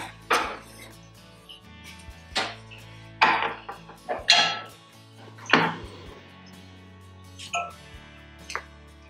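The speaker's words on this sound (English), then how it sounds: "So I've gotta chop some more to put that in." Knife chopping fresh red pepper on a cutting board in a home kitchen, a handful of sharp, uneven chops at close range with short pauses between them.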